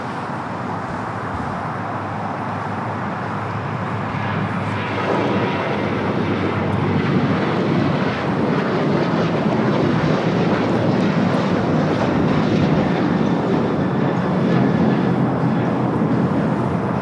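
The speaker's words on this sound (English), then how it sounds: "Flight coming in from London Heathrow on the A380 Super" An Airbus A380 arriving at LAX from London Heathrow, its deep engine roar building and holding loud and steady, close by, with no voices over it.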